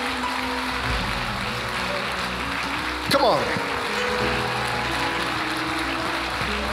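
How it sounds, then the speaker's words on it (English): A church congregation claps its hands in praise during a worship service, making a diffuse wash of applause. A preacher's voice urging them on is heard over it, and a brief louder swell comes midway. "would you give the Lord a big hand clap of praise?"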